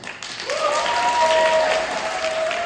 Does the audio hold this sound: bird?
no